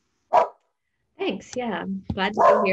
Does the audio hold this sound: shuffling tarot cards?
no